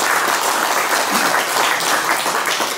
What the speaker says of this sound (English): give yourselves a round of applause for already making it here in the first place